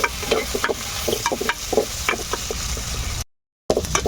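Chopped onions sizzle and fry in a pan over a wood-fired stove while being stirred for coriander rasam, with steady crackling and repeated scraping strokes, then a brief silent gap before the frying resumes.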